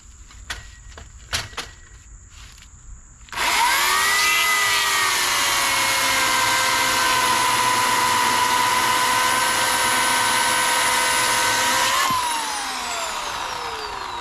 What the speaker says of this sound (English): I get to use a smaller chainsaw